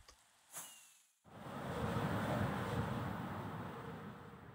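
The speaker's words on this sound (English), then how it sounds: "I shouldn't be recording in the rain," Steady rain in the Minecraft video game, a dense broadband hiss that swells in after a brief quiet moment and continues evenly to the end, with no talking.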